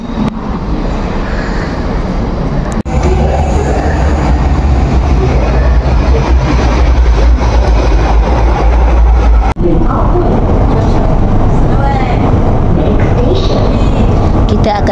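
An MRT train ride from Putrajaya station toward Kuala Lumpur rumbles loudly and steadily inside the carriage, a continuous low drone with a couple of abrupt shifts, with people talking faintly beneath it.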